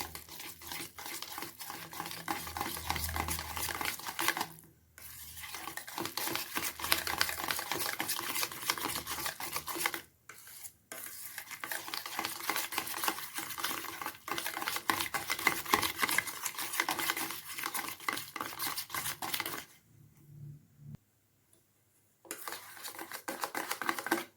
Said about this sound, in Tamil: இந்த 2 கப்பு தயிரை விஸ்க் வச்சு நல்லா கலந்துக்குங்க